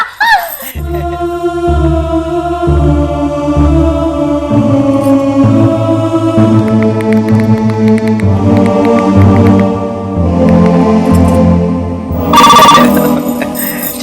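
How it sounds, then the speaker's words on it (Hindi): A loud electronic telephone ringtone plays a repeating melodic tone sequence, steady and close, with a brief harsher burst near the end. "मीता, तुम्हारे लिए जिया का फोन"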